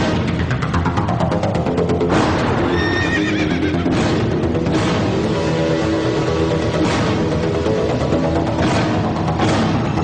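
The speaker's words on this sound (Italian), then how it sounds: "Un cavallo!" A horse whinnies loudly several times over a steady clatter of hooves, close and continuous throughout.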